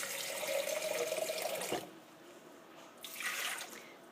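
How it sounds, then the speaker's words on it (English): Filtered water pours into a blender for ginger green juice, a steady splashing stream for nearly two seconds, then a pause and a shorter second pour. "We're going to take some nice filtered water,"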